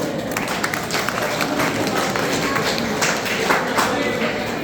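Audience applause at a live program, a dense steady wash of many hands clapping that holds at moderate loudness throughout, with crowd noise mixed in.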